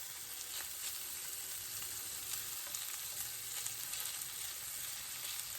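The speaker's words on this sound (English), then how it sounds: "Add the sausages. And let them cook for about maybe 3 to 4 minutes." Andouille sausages fry in a pan with a steady, dense sizzle and crackle that holds at an even level throughout, with no voices over it.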